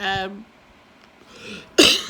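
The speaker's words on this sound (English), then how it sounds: "Excuse my cough." Two short, harsh coughs, one at the very start and a louder one near the end, with a quieter throaty noise in between.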